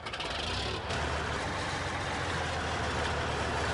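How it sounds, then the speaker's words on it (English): Tractor engine in the Farming Simulator 19 video game running steadily, a dense, continuous diesel rumble and drone at constant level with no talking. "I'm going to jump in Peter's tractor"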